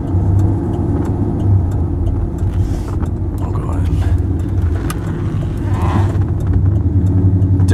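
A car drives into a tight corner on a rough road, its engine a loud, steady low rumble with slight rises as it accelerates, while a voice talks over it.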